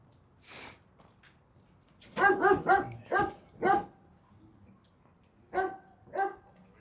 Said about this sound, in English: Not sure why that dog's barking, but kind of scared the crap out of me.